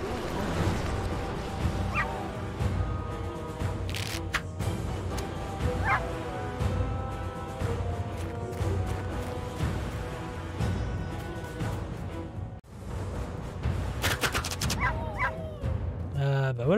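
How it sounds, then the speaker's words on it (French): Hellhounds in the fantasy strategy game Master of Magic bark and yip repeatedly amid game sound effects and music, with a person talking over parts of it. "Les chiens de l'enfer"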